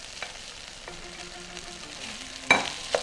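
Vegan kimchi fried rice sizzles softly in a pan, a quiet steady crackle broken by a couple of sharper clatters of a utensil near the end.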